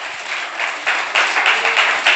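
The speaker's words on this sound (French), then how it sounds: "on les applaudit, ouais, on les applaudit" A school crowd applauds in a dense burst of clapping that swells slightly over a couple of seconds, loud and close.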